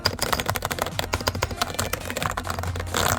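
Rapid, close clatter of keys on a computer keyboard at a home gaming desk, with dense irregular keystrokes running steadily throughout and a slightly louder burst near the end, no voices.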